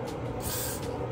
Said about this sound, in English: I'm just gonna spray a little on to me.